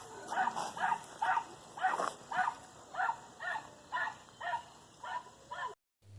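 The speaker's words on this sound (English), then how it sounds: "We got 4 dogs and a horse going by the" Dogs passing an RV give a steady run of sharp barks, about two per second, at moderate distance outside the vehicle, before a sudden cut to near-silence.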